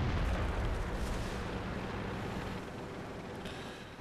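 A tank in the World of Tanks video game fires a gold round with a heavy, booming cannon blast at the start. A long rumbling tail follows and slowly fades.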